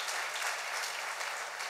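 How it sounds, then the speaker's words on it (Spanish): A church congregation applauds during a sermon, with dense, continuous clapping from many hands at an even level throughout. "Denle un aplauso al Rey bendito"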